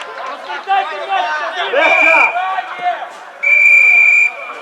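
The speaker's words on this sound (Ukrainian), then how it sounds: "І дає три свистка." At a district second-league football match between FC Hoshcha and FC Mizoch in 2023, a referee gives drawn-out whistle blasts, with one shorter and one longer, under a commentator's voice and faint crowd chatter.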